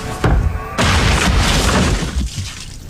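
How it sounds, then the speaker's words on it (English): A Terry's Chocolate Orange gets whacked and smashed, making a sharp crack and then a loud, noisy shattering burst that slowly dies away over a few seconds, with no speech. "When you whack Terry's Chocolate Orange"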